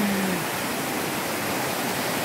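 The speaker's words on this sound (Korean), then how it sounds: "위쪽에 있는 두 번째 폭포고요" The second, larger waterfall in the Myojeoksa valley roars as an unbroken, loud wash of falling water, close by and with no voices above it.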